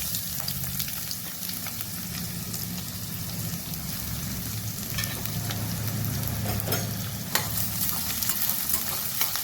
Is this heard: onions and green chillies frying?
yes